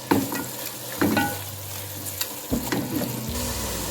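Bottle gourd halwa roasts in a pan while a spoon stirs it continuously, giving a soft frying hiss with repeated scraping strokes and a few clinks, close and without talk.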